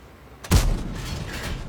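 A tank cannon fires once in the World of Tanks video game, from an EBR 105. It is a single sharp, heavy boom with a rumbling tail that lingers under the engine noise.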